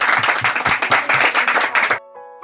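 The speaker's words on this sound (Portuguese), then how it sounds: "Uma salva de palmas, irmão." A church congregation claps loudly for their pastor's birthday, brisk rhythmic hand claps that cut off abruptly near the end, leaving faint musical tones.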